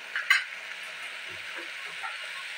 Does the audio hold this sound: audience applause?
no